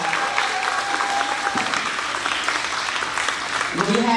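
Audience applause for a college intern at an end-of-year ceremony, a dense, steady wash of clapping lasting the whole stretch, with voices and cheers mixed into it.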